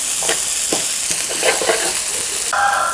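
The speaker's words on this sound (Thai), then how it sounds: "ถ้าไม่สุกอะครับ เดี๋ยวมันจะเหม็นหืนแล้วมันก็จะไม่อร่อยด้วย ผัดไปเรื่อยๆครับ" Basil chicken with glass noodles stir-fried in a hot pan: a loud, continuous sizzle with scattered scrapes and taps of a spatula, close up and without talk.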